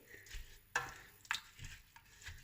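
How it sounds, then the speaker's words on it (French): Beef shank browns in vegetable oil inside a tajine, with soft sizzling, a few sharp clinks and scrapes of stirring against the pot, heard close and fairly quiet. "je vais laisser tout ça mijoter tranquillement jusqu'à que ma viande soit bien dorée"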